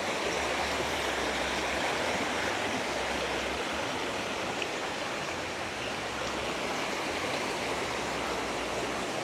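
A river flows steadily at an outdoor forest site, a dense, continuous rushing wash of water that stays loud and even throughout, with no voices over it.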